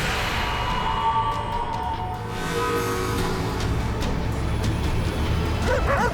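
A dog barks and yelps near the end over a steady, busy background of engine noise and hiss, the barks short and fairly loud after several seconds of continuous rumble.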